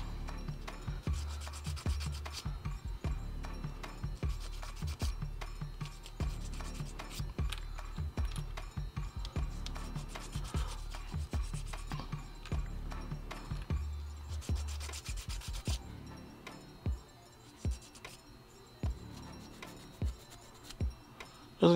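Sprue nubs are sanded off plastic model railway turnout parts with repeated back-and-forth rubbing strokes, close and rhythmic, then a few slower separate strokes near the end.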